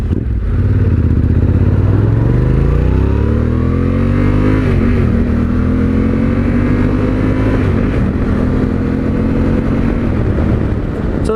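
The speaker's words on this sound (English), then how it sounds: "It does not have stock exhaust, so it does sound a little bit more rumbly than the OEM" A Yamaha Tenere 700 motorcycle fitted with an aftermarket Akrapovic exhaust revs loud and close, its rumbling engine note climbing smoothly in pitch over several seconds, then holding high and steady.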